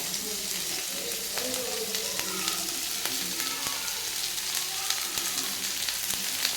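Idli pieces sautéing in a pan for idli upma until golden, a dense, constant sizzle with frequent light scrapes and taps of stirring throughout.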